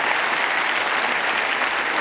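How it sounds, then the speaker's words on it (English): Audience at a science conference talk gives a hand to two volunteers; dense, even clapping from a sizeable crowd, continuous and unbroken for the whole stretch. "Great hand of applause for my guinea pigs."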